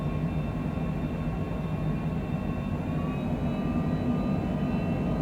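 A Cessna Citation Longitude business jet taxiing at Monterey airport: a continuous, loud jet engine whine and rumble with faint steady high tones, holding even for the whole stretch without speech.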